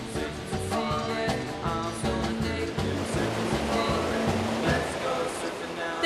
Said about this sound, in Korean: 하코 해변은 태평양의 파도를 그대로 해안까지 전달받기 때문에 서핑에 적당한 높이와 강도의 파도가 계속 밀려옵니다